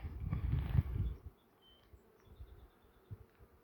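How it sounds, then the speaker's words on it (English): A loud, low rumbling buzz up close at first, then a quieter scattered hum of a honey bee swarm near a tree line with faint high whines drifting past. "And then I saw some bees flying over here."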